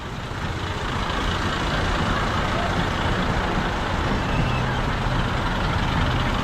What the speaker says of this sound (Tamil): தொடர்ந்து பார்த்தீங்கன்னா டிராக்டர்கள் வந்து கொண்டே இருக்குது